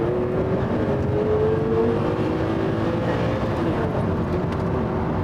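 Ferrari Testarossa flat-twelve held steadily around 3,000 RPM in first gear, a continuous loud smooth engine drone with a slowly shifting tone and no speech.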